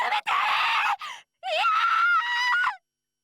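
Woman's screams in the visual novel game Code Realize: Guardian of Rebirth, two loud, shrill bursts separated by a brief gap, the second long and wavering before cutting off into silence.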